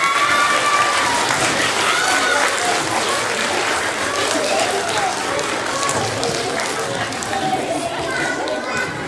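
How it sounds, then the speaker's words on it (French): A school audience of students applauds their teachers and the school management, a long, loud wash of clapping with crowd murmur and scattered children's voices mixed in throughout. "je pense que ça vaut la peine d'applaudir vos profs ensemble et la direction"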